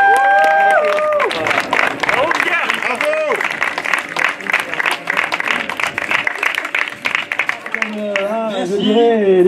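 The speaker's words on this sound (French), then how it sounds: "Et on les applaudit s'il vous plaît." Outdoor crowd at a trail race awards applauding the women's podium, steady clapping and some cheers running for several seconds under an announcer's voice and music.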